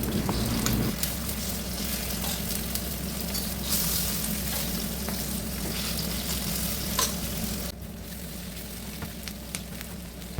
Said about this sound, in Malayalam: റൈസ് ബ്രാൻഡ് ഓയിലാണ് ഒഴിച്ചു കൊടുക്കുന്നത് ഞങ്ങൾ രണ്ടുപേരേ ഉള്ളൂ കുറച്ച് മീനിട്ട് പൊരിച്ചെടുക്കാം